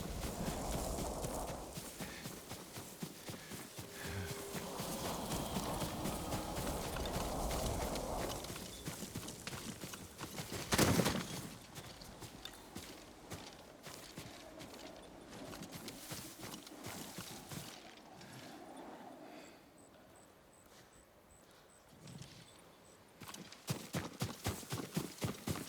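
A horse's hooves clip-clop at a steady walking pace in the video game Ghost of Tsushima, close and fairly loud over ambient wind and rustle, with a brief louder thump partway through and the steps resuming toward the end.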